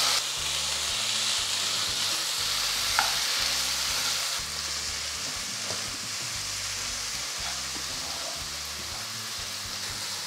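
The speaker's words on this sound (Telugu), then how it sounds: "కొద్దిగా పసుపు, ఒక 4 పన్నీర్ ముక్కలు వేసేసి మళ్ళీ కొంచెం ఫ్రై చేయండి" Paneer pieces fry with turmeric and chicken masala, with yogurt added in the pan, a loud, continuous sizzle and hiss with soft stirring scrapes throughout.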